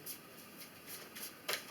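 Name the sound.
shuffling tarot cards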